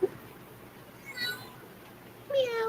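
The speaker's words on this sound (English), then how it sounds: "Meow. I heard that. Meow." A pet kitten gives a couple of short, thin meows close by, one near the middle and a longer one at the end, over quiet room noise.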